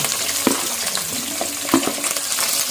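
Green chillies and onion fry in hot oil for a cashew-paste chicken dum biryani, a steady close sizzle with occasional stirring clinks and scrapes, no talking.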